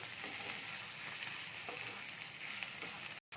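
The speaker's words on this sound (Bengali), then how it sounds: "আলুটা দিয়ে পেঁয়াজের সাথে ভালো করে নেড়ে নিচ্ছি আমি" Grated potato and onion frying in a pan for a quick atta-flour breakfast, a steady broadband sizzle with soft stirring scrapes throughout, close and continuous, cut briefly near the end.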